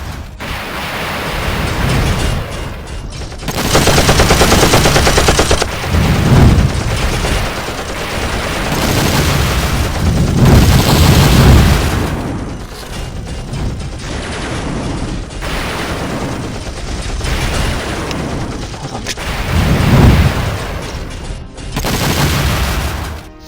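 Sustained heavy gunfire and rapid blasts from a stop-motion Transformers battle, loud and continuous bursts of machine-gun fire with booming impacts throughout, no talking.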